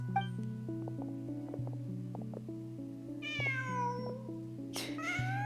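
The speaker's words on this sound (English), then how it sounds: "It was a cat that knocked it over the whole time." A cat in Genshin Impact meows twice, a drawn-out call and then a sharper one, over steady game music.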